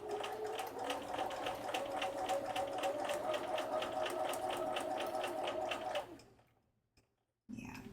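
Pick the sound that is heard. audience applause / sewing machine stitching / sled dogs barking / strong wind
sewing machine stitching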